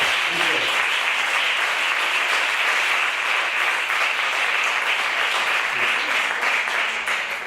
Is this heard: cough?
no